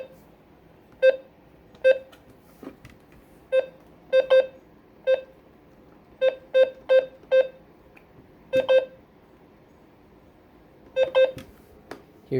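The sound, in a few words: FirstAlert WX-150 weather radio button beeps, first set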